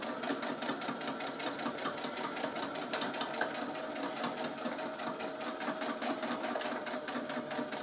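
A sewing machine runs a straight seam through a tote bag about half a centimetre from the edge, a steady rapid needle chatter that holds evenly from start to finish with no talking.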